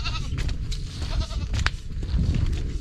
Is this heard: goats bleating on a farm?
yes